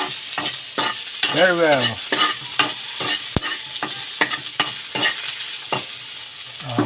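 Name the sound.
sautéing onion in pan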